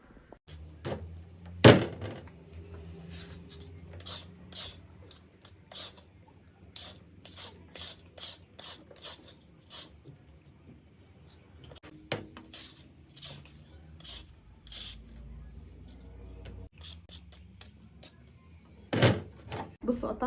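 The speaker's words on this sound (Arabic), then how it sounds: "هقشر بس البطاطس وهظبط الفراخ هقطعها" Potatoes being peeled and chicken cut up in a home kitchen, heard as scattered scraping, rasping strokes and occasional knocks at close range, with irregular rhythm and brief louder thuds.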